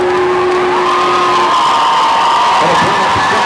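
Crowd at a Dakota Bowl high school football game between Harrisburg and Sioux Falls O'Gorman cheers and whoops steadily, a broad sustained roar with a brief held tone early on.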